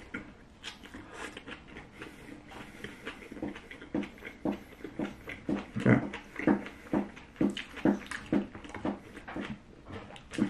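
A dog near a person eating a pot roast melt makes a rapid series of short snuffling, whimpering bursts, rhythmic and close, continuing steadily without speech.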